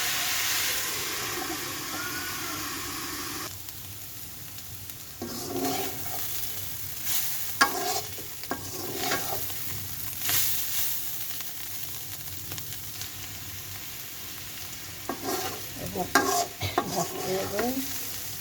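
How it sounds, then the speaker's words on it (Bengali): Carrots and potatoes frying in a pan, a steady close sizzle with intermittent scraping stir strokes of a utensil through the vegetables, and no talking. "এখন নাড়াচাড়া করে ঢেকে দিব।"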